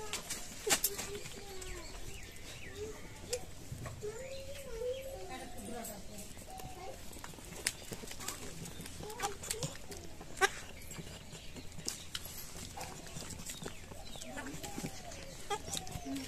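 Goats bleat faintly on a farm, wavering calls scattered across a quiet outdoor scene, with people talking nearby and birds in the background.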